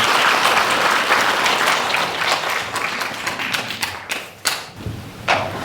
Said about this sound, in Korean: 뜨거운 박수로 환영해주세요.